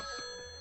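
A telephone rings in one short, bright, tonal burst with steady pitch, heard alone with no voices.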